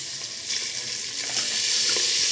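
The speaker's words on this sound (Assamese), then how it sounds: "এতিয়া এয়া ভাজ খাই আছে ধুনীয়াকৈ" Goat meat sizzles steadily in a pan while being fried for pulao, a continuous bright hiss with a few soft clinks, close and moderately loud, no voices.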